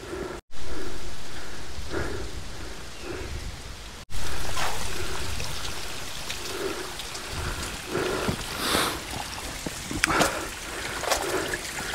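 Heavy water spray patters down like steady rain, a dense continuous hiss with scattered drips, interrupted by two brief dropouts.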